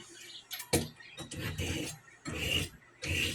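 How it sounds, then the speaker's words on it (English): Knife being sharpened, a series of rough rasping strokes in irregular bursts, close and moderately quiet, with short pauses between passes. "what I have to do is sharpening up a knife."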